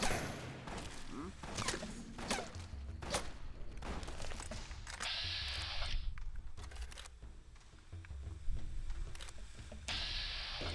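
An anti-materiel rifle in Fallout: New Vegas fires a series of heavy, sharp shots at irregular intervals amid other battle noise, with some talking in the mix.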